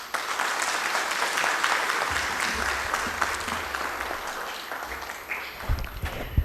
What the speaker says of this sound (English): Let us all applaud this outstanding success and take inspiration from this exemplary work.